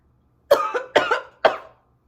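Three rough, forceful coughs in a quick sequence, evenly spaced, close to the listener, done by a voice imitating coughing.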